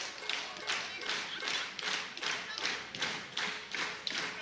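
Crowd at a live esports event clapping and stamping feet in a steady rhythmic beat, evenly pulsing and moderately distant, with no talking over it.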